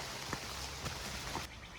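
Steady rain falls on the Appalachian Trail near Delaware Water Gap, an even, faint hiss of drops with a few slightly louder taps, with no voices.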